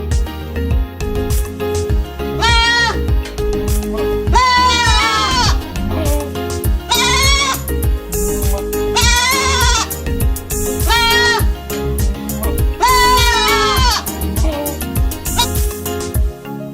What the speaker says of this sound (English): Baby goats we had this past year.